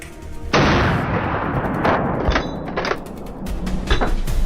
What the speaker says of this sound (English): The sound of gunfire echoed from all directions